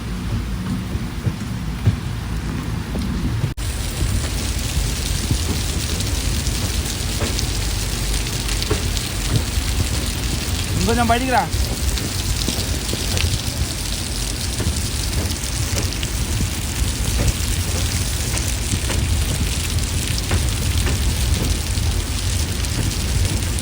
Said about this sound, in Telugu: ఫుల్ వాన అయితే పడుతుంది చూడండి